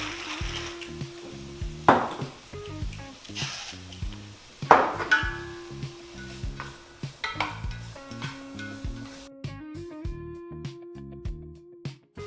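Ground beef browning over turned-up heat in a pan for crockpot chili, with a soft sizzle under repeated scraping and stirring knocks from a utensil, plus a few clinks of cookware.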